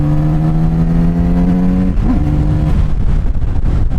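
A Kawasaki Z900RS motorcycle engine revs up close and loud, its steady note climbing, then dipping and shifting as the bike accelerates, with wind rush underneath.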